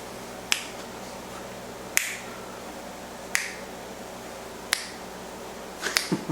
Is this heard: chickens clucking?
no